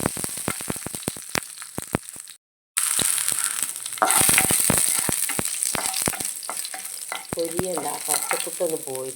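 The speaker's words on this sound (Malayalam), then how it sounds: "ആദ്യം നമുക്ക് കുറച്ച് വറവിടാണ്ട് കേട്ടോ സവാള തേങ്ങാക്കൊത്ത് ഇഞ്ചി വെളുത്തുള്ളി" Onion, coconut pieces, ginger and garlic fry for a tempering with a steady close sizzle, punctuated by repeated sharp scraping stirs of a spoon against the pan, broken by a brief silence before the frying resumes louder.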